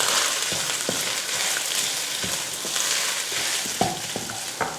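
Rice is tossed into a hot pan and stir-fried for garlic rice, a steady close sizzle broken by repeated scraping and tapping of the spatula against the pan.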